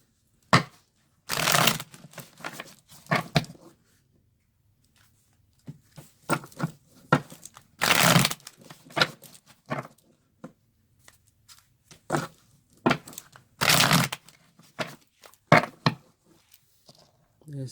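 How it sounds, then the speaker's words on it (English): Tarot cards are shuffled in quick riffling bursts and soft slaps, interspersed with short quiet gaps and faint handling noises. "I do want to give a little shuffle in front of you."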